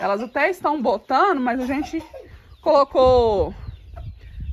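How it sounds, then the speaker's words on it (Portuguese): Large Índio Gigante rooster clucking in short bursts close by, mixed in with someone talking over it throughout. "É um galo, um frango bem grandão."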